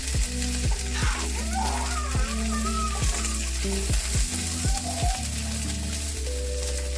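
Green beans with their ends cut off fry in a pan with a steady, close sizzle, while repeated stirring clacks and scrapes come at a loose rhythm and no one talks.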